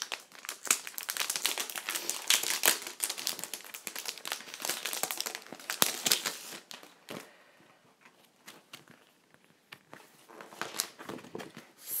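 Plastic packaging around sheets of accent stickers being opened, with dense close crinkling and crackling in irregular bursts that thin out toward the end, no talk over it.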